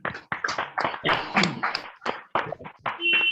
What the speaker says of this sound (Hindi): खुद के लिए एक बार जोरदार ताली बजा दीजिए